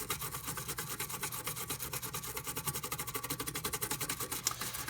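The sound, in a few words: scrubbing leftover flux off circuit board repair site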